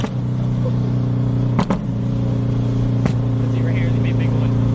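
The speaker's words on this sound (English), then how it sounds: "This thing is shooting mad flames, loud exhaust" A Scion FR-S with a wide body kit and loud exhaust rumbles with a deep, steady drone, interrupted by a few sharp pops, while people talk nearby.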